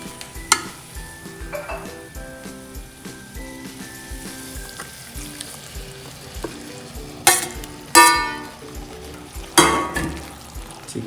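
Chicken sautés in a pan with ginger and curry leaves, giving a continuous sizzle broken by a spoon stirring and several louder scraping clanks against the pan, close by with no speech.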